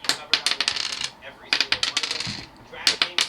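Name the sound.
hard plastic LEGO piece dropped, like rolling dice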